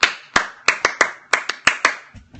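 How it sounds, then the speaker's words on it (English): A classroom call-and-response clap pattern, sharp close hand claps in a quick rhythmic sequence of about ten claps with brief pauses, alone without talk. "bring it back, and all they do is the clap"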